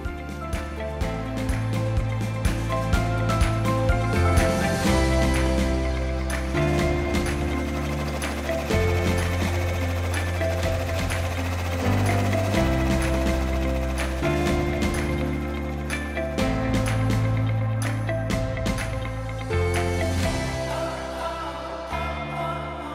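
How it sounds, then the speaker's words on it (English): A Baby Lock Array multi-needle embroidery machine stitches a design, giving off a steady rapid mechanical chatter with rhythmic clicks and thumps that runs continuously and up close, with no talk. "All we have to do is select it and we're stitching."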